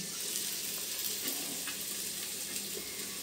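A tadka tempering sizzles in hot oil for vegetables and dal, a soft, steady frying crackle with small pops, heard alone and fairly quiet.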